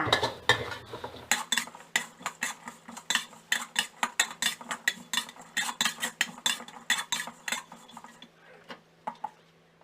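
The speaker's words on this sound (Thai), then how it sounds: "ใส่ใบมะกรูดลงไปค่ะ แล้วก็คั่วต่อไปอีกสักครู่นึง" Herbs and kaffir lime leaves dry-roasting in a pan for grilled pork with spicy fermented fish sauce, a utensil scraping and clinking against the metal in a quick steady rhythm, close and loud, easing off near the end.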